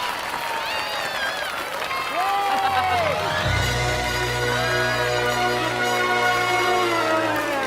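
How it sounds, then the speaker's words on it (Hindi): An audience claps and cheers at a comedy stage show in a broad wash of applause, overlaid with a loud sliding whoosh and low rumbling hum partway through. "तालियां।"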